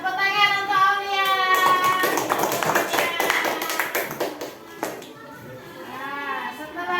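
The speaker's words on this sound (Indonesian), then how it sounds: "tepuk tangan untuk Aulia" A classroom of students claps for a classmate, a dense, sustained burst of hand claps in the middle, with voices talking before and after.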